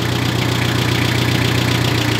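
A Mitsubishi tractor fitted with a front loader idles steadily nearby, its engine giving a constant low rumble with a faint knocking beat and no break or change in pitch.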